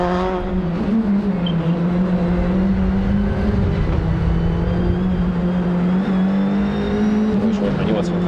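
Citroën C3 Rally2 rally car engine burbling steadily from close by, a loud continuous droning note with slight pitch wavering throughout, and background chatter under it.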